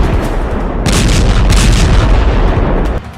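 Bombs from a B-2 bomber strike on Houthi fighters go off as heavy, loud booms in quick succession, rolling into continuous rumbling that drops away abruptly at the end.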